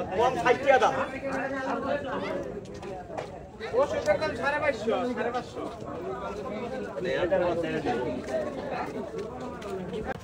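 Dense crowd chatter fills a busy night-time village market, many overlapping voices babbling steadily near and far, with occasional louder nearby talk rising above the hubbub.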